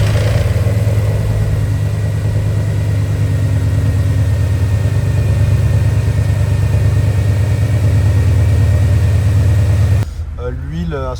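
Mercedes ML 63 AMG engine running at a loud, steady idle with a deep low rumble for about ten seconds, then cutting to a quieter passage with a voice talking.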